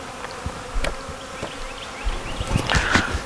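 Honeybees buzz steadily close by at an open hive, a dense droning hum with occasional louder passes as individual bees fly near.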